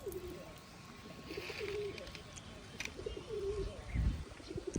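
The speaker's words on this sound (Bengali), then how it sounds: "এই কৈতরের সাথে একটা ঘুঘু পাখি আসে, ও প্রত্যেক দিনই খায়া যায় এখান থেকে।" Domestic pigeons and a wild dove feeding together in a village yard, giving repeated soft low coos throughout, with faint chirps and a brief flutter near the end.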